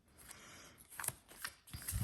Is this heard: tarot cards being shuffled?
yes